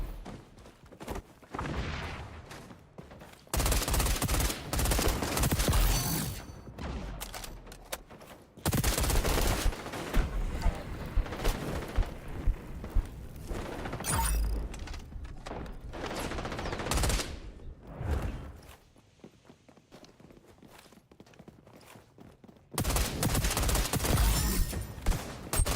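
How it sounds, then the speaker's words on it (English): Rapid bursts of gunfire in the shooter game XDefiant, loud clustered shotgun blasts and volleys separated by quieter gaps, repeating over several stretches. "Man, these fucking shotguns."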